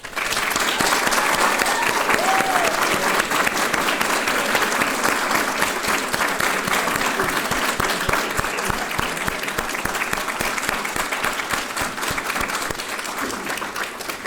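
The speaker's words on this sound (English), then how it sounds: "I'd like to ask all the students in the room to join me in a thunderous applause for thanking our benefactors." Students at a scholarship reception give sustained applause for benefactors: a dense, steady roar of many hands clapping that fills the room for well over ten seconds without letting up.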